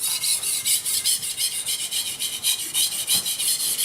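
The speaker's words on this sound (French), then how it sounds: "de remettre un petit coup de pierre, donc le grain 1000" A blade stroked back and forth on a Chroma P35 Japanese water stone, 1000 grit side, makes a rapid, rhythmic wet rasping, about four strokes per second, loud and close with no voices.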